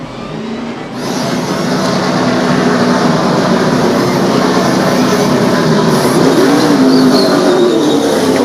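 NASCAR stock cars at the 2011 Quaker State 400 roar at full throttle, a loud, sustained engine drone that surges in after a quieter first second and holds steady, with faint pitch shifts as cars pass.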